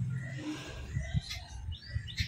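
Small sparrows hiding among banana plants and coconut palms in a home kitchen garden chirp in faint, scattered bursts over a low, quiet outdoor background.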